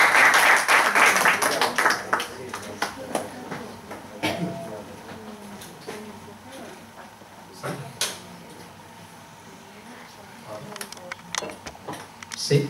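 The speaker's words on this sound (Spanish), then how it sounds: "Y sin más, pido un aplauso para él." Applause for a speaker at an internet security talk swells loudly in the first two seconds, then fades into scattered claps, knocks and shuffling noises in the room before he begins to speak.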